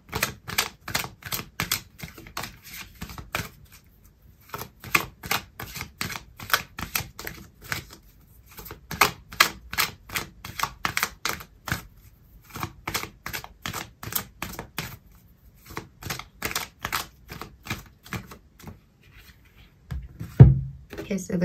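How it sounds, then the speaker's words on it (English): Tarot cards are shuffled and handled at close range for a reading, giving rapid bursts of papery riffling and tapping with brief pauses, and a voice talks over parts of it. "so I'm going to pull out another card for you"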